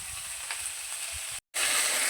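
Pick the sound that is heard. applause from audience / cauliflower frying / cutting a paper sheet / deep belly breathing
cauliflower frying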